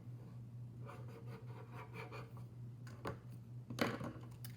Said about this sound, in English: So let's write the definition for that.